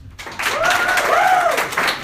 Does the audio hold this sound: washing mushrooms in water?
no